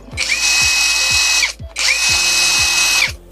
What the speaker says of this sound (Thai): ฟังเสียงขันเข้าที่เกียร์หนึ่งครับ